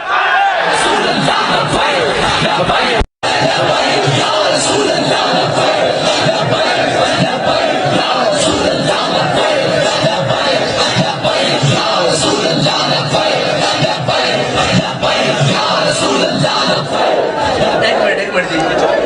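A large crowd at a Khatme Nabuwat conference rally in Chowk Azam chants and shouts the Labbaik slogan in a loud, unbroken roar that lasts nearly twenty seconds, with only one brief cut near the start.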